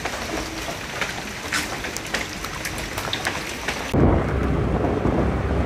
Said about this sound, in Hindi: ये देखो बारिश जोरों से आ रही है बहुत।